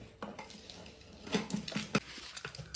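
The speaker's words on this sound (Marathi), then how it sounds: "आता आपण शेवटला लावणार आहोत तो कुकरचा झाकण" A few metallic clanks and scrapes of a pressure cooker lid being fitted, close by, against a quiet background.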